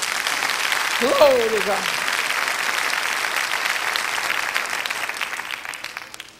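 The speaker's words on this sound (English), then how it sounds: "Clap your hands for Jesus." Church congregation claps their hands in a sustained, even burst while a voice rises briefly over the clapping near the start; the applause fades toward the end.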